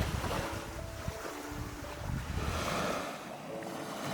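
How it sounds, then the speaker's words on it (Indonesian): Waves from the Berau waters wash onto the beach of Sangalaki Island, a green turtle nesting island, as a steady, broad rush of surf mixed with heavy wind buffeting the microphone. "Deburan ombak perairan Berau menghantam pesisir pantai di Pulau Sangalaki."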